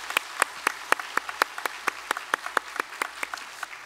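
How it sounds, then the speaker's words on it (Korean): A church congregation applauds to welcome new families at a Sunday service, with sparse, rhythmic individual claps standing out near the mic over a soft room background. "우리 두 가정 박수로 환영하겠습니다"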